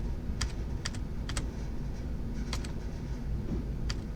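Computer keyboard typing comes through as a few quick clusters of crisp key clicks, faint over a heavy steady background rumble.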